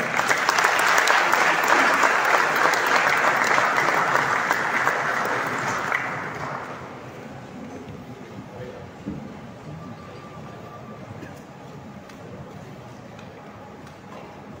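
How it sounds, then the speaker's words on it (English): Audience applause at a World Tourism Day celebration stage event in Goa, loud sustained clapping for about six seconds that fades away, leaving quiet room ambience. "Let's give them a round of applause"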